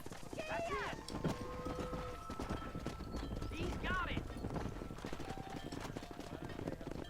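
Horse hooves clip-clop steadily in Red Dead Redemption while a rider herds cows down a road, with a horse whinnying and game voices talking over the hoofbeats.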